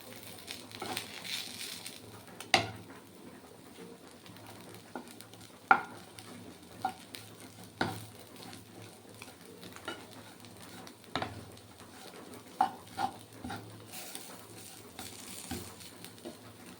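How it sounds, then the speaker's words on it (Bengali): Shrimp and coriander leaves fry in a pan with a soft, steady sizzle, broken by occasional sharp clinks and scrapes of a spatula stirring against the metal, heard close with no talking. "ধনে পাতা দিয়ে আবার একটু ভাজতে হবে"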